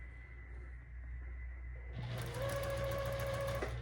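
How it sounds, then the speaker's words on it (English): A Juki 2000 QI sewing machine stitches through stiff, starched quilt fabric, starting midway with a steady, close, fast mechanical whir and rhythmic needle hum over a constant low room rumble, stopping abruptly near the end. "today I am sewing on my Juki 2000 QI"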